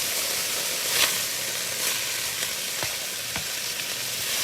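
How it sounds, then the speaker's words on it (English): Beef and broccoli being stirred together in a hot frying pan for a keto dish, a steady close sizzle with a few soft scraping clinks of the utensil through the mix. "And then just mix all of this together."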